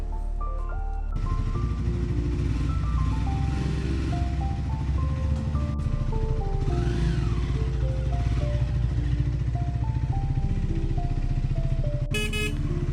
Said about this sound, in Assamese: আজি ফাৰ্ষ্ট মটো ব্লগিং নতুন বাইকখনৰ লগত